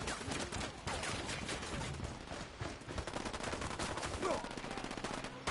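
Automatic gunfire rattles without pause in the Ghost Recon Wildlands video game, with dense overlapping bursts and shots, loud and continuous across the whole stretch.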